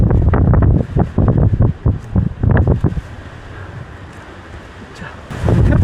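Strong gusts batter the microphone on a mountain ridge trail at Duryunsan in Haenam, heavy buffeting roars that rise and fall, with a calmer hiss in between and a fresh blast at the end.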